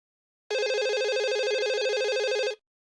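A telephone rings once in a single continuous electronic trill lasting about two seconds, loud and close against silence.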